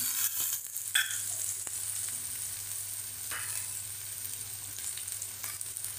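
Onion fries in a pan for upma, a steady bright sizzle with a few scraping stirs and clinks near the start, close and fairly loud, nobody speaking.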